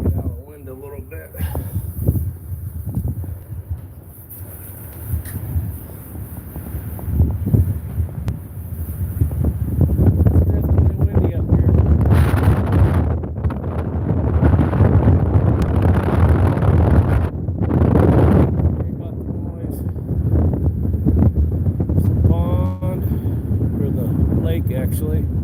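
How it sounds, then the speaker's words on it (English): Wind blows steadily outdoors in Alaska, gusting louder in the middle, with a person talking over the roar at times. "Get out of the wind a little bit"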